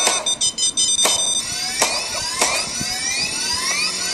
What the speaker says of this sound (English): There goes the alarm.